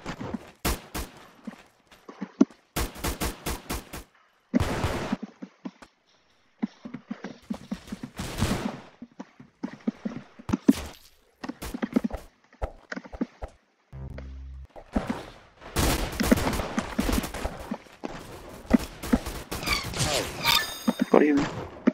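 Auto sniper rifle gunfire in a Roblox shooter game, sharp loud shots fired in scattered bursts and single cracks with gaps between them, mixed with other game effects and clatter.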